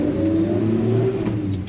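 1955 Chevrolet 5-window pickup engine pulling away in second gear, a steady, close, mid-pitched drone that holds evenly as the truck moves off.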